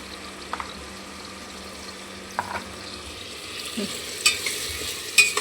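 Dal khichdi stirred in a pan, faint low bubbling and simmering with a few soft scrapes and clinks of a spoon, quiet and close, no voices.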